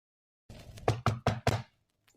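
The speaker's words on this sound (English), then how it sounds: "there was a knock at the door" Four sharp knocks at a door, close and firm in a quick even rhythm after a brief fumble, then silence, as a sound effect in an old Australian radio advertisement.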